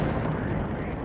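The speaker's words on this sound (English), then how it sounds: "That explosion would have sounded like a sonic boom." An object exploding high in the atmosphere gives a deep, dense rumbling boom that holds loud and steady for about a second, with no voices.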